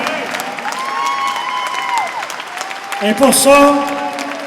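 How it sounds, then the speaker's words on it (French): A standing arena crowd applauds and cheers, a broad wash of clapping and shouts under someone speaking French over the PA, swelling near the end. "J'aimerais ça qu'on lui donne une bonne main d'applaudissement."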